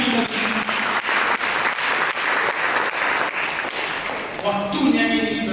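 A church congregation breaks into loud, continuous applause during a sermon. The dense clapping fills the room, and a voice begins to rise over it near the end.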